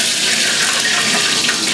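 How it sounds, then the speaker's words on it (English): Hot frying oil poured off a skillet in a New Orleans-style kitchen, making a steady, close, bright hissing pour that runs without a break and with no talking. "carefully pour off this hot oil"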